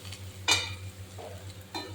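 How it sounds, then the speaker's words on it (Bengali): Moringa leaves fry in oil with black cumin seeds and dried red chilli, a soft sizzle broken by a few short scraping stirs in the pan. "কালো জিরে ফোড়ন দিয়ে শুকনো লঙ্কা আর কালো জিরে ফোড়নে সজনে ডাঁটা পাতা, পুরো সজনে পাতা ভাজা"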